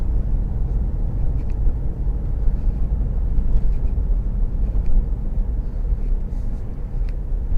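A car drives along a road between Temple Ewell and Lydden, its engine and tyre rumble a steady low drone heard from inside, with faint ticks and no talking.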